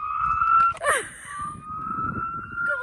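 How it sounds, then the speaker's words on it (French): A toy siren wails in a steady electronic tone, rising briefly then holding a long, fairly loud note near the listener, with rustling and a short break partway through. "Elle a une sirène et tout, ouais."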